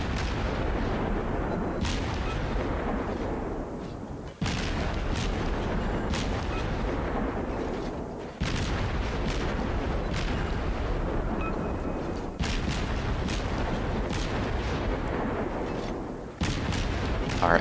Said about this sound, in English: Here comes a shot.